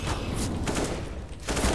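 AK-47 fire in a shooter video game comes as a loud, fast spray of rapid shots filling the whole short moment, the bursts pulsing in quick succession with no talking heard.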